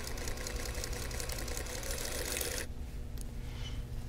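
A sewing machine pieces a 10-inch laser-cut quilt block, a steady mechanical whir running continuously for over two seconds before stopping abruptly, leaving quiet room tone with a faint click.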